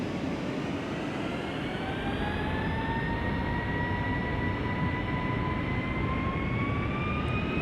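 Boeing 757-300 jet engines spooling at takeoff thrust in the flight simulator FSX, a loud, steady roar with whining tones slowly rising in pitch over several seconds.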